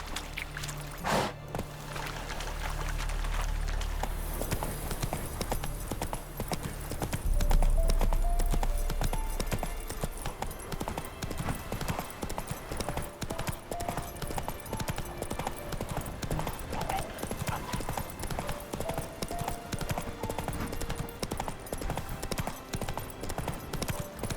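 Hooves of the horse Roach clip-clop steadily through The Witcher 3: Wild Hunt, a fast even rhythm running the whole time under a game soundscape with a brief louder surge early on.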